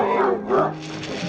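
An aggressive dog gives a couple of close, harsh barks in quick succession, with a voice talking over them.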